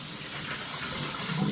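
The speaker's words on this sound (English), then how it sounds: "So we're just going to give these guys a really good rinse now that I've got the space." Tap water runs steadily while strawberry plants are rinsed under it, a continuous close splashing gush with no talk.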